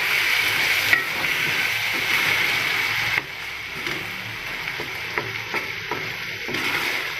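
Okra masala frying in a pan, a steady close sizzle with intermittent scraping stirs and soft clicks of a utensil against the pan, no voices.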